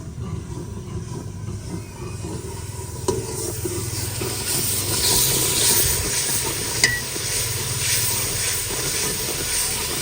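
Potatoes added to spices already frying in a pan in a Pakistani village kitchen, giving a steady loud hiss and sizzle with scraping stirs and occasional clinks throughout.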